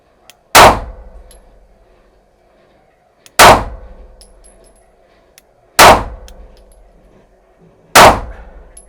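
Four loud, close SIG Sauer P365 pistol shots, each a sharp crack with a metallic ring from steel targets, spaced about two to three seconds apart and fading quickly into a quiet outdoor range.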